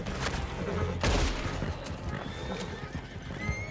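Gunfire in Red Dead Redemption 2 comes as several sharp cracks spread over a few seconds, mixed with a horse's loud neighing and clip-clopping hooves nearby.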